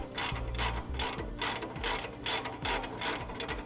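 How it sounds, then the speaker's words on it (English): A hand ratchet with an 18mm socket backs a nut off an end link on a 2015 Winnebago Minnie Winnie motorhome, giving close, steady rhythmic clicking in about nine even strokes. "to take the nut off the end, we'll be using an 18mm socket"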